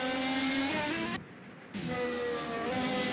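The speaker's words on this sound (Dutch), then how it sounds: "De motor van Hesse klinkt niet goed." A Formula 1 car in an F1 racing video game at Monza, its engine droning with a sustained harmonic whine that suddenly cuts out for about half a second and then resumes, suggesting a faulty, stuttering engine.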